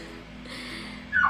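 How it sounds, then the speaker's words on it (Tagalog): A dog gives a short, high whimper close by, rising near the end after a moment of faint room noise. "Nakakainis naman yung aso. Sumasabay pa."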